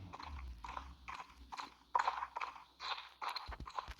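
Horse hooves beat in a steady, even trot, each stride a soft crunchy thud repeating in regular rhythm, fairly close and moderately quiet.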